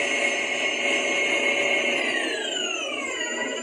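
An electric mixer whips eggs for chocolate buttercream, a steady high whirring hum with tonal motor whine that drops in pitch near the end as it slows, close and alone.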